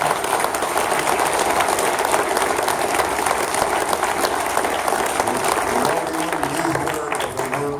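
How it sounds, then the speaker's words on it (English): A loud, dense round of applause from the audience at a candidate forum, continuous clapping throughout that eases slightly toward the end. "I think we could give both of these gentlemen a round of applause."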